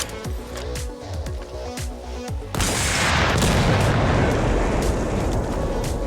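Battlefield RPG rockets blasting in a video game, a loud sustained roaring explosion bursting in midway and rumbling on, after earlier lighter repeated thumps and clicks.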